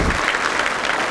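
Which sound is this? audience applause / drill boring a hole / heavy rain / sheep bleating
audience applause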